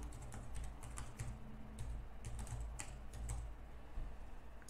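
Quick, continuous clicking of fingers typing on a computer keyboard, close and fairly quiet, with an even stream of key taps in uneven bursts.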